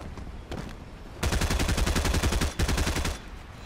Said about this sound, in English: Trying to find this guy that's beneath me shooting.